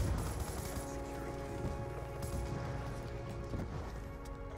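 Faint, continuous automatic weapon fire rattles in a Black Ops 2 multiplayer match, with dense overlapping shots and some quiet talking underneath.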